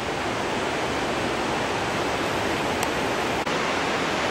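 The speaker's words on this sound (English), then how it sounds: "I can hear the water flowing over the dam." Steady roar of water pouring over a dam, a broad continuous rush that stays loud and unbroken throughout, with no voices.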